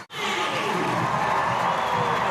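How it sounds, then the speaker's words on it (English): A rugby crowd at Scotstoun cheers a Scotland try in a 2022 women's Six Nations match against France, a loud, steady roar of many voices swelling right after a brief gap and holding throughout. "The Scotstoun crowd have something to cheer"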